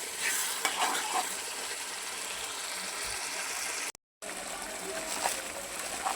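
Spices and chopped pointed gourd sizzle steadily in a hot pan while being stirred and scraped, close and continuous, with a brief dropout partway through.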